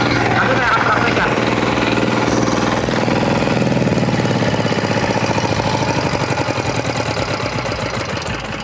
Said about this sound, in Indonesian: Traktor 4 roda mini ini dengan tipe FTI 2010DE